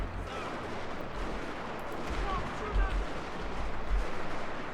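Musket volleys ring out across a Total War Shogun 2 Fall of the Samurai battlefield as kneeling infantry fire, a dense wash of distant, overlapping shots with a few heavier thumps in steady battle noise.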